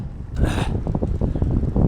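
Wind buffets the microphone while cycling in freezing weather of about minus seven degrees, a close, low rumbling gust with rustling bursts and no talking.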